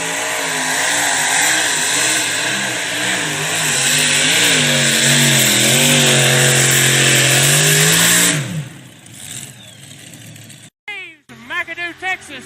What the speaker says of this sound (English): Cameron Neves out of McAdoo, Texas, triple engine big block Chevrolet's Cotton Candy